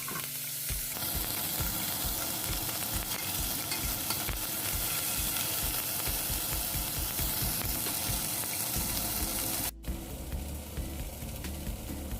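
Turkey neck browns in a hot pan with a dense, continuous sizzle and a rapid crackle. A brief break near the end is followed by a lower, steadier fry.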